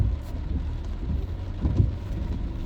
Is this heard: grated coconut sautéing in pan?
no